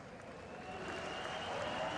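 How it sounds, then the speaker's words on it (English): A distant crowd at a Porsche Carrera Cup race at Zandvoort cheers a driver, a broad, steady roar that grows slightly louder, with a thin tonal whine running through it. "You can hear the crowd cheering him."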